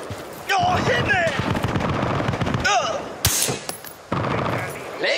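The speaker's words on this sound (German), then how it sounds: "Stehe unter Beschuss!" Gunfire in the video game Battlefield: Bad Company, dense bursts of shots with explosive cracks, loud and continuous, with in-game voices shouting over the battle.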